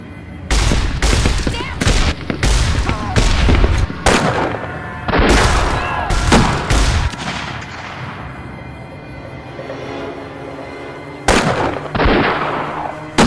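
Loud, close bursts of gunfire in the video game Fallout, a rapid cluster of shots over the first seven seconds, then ringing decay and two more shots near the end, with no talking.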